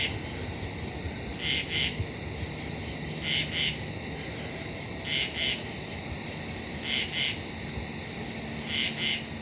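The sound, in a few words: common true katydid calling at night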